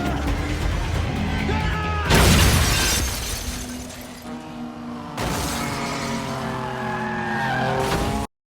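A Fast & Furious film scene of a car crash: tires squeal and skid, then a sharp smash of shattering glass and metal, followed by more screeching tires and engine noise, all loud and close.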